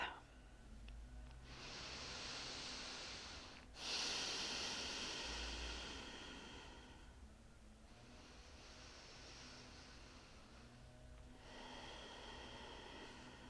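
Slow, deep breathing during a gentle yoga meditation, long hissing inhales and exhales alternating in an even rhythm, close and quiet with nothing else heard.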